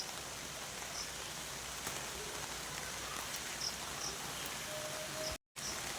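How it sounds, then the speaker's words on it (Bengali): Steady rain falls across a village garden, a dense even hiss of drops on leaves and ground that holds close and constant, with faint insect chirps woven underneath and no voices. "যা বৃষ্টি হচ্ছে"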